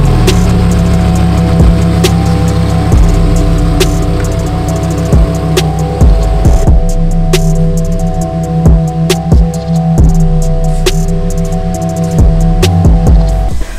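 A Lamborghini Huracan Performante engine idles and revs unevenly at close range as it backs into a shop lift, with clicks and mechanical knocks scattered over the steady low drone.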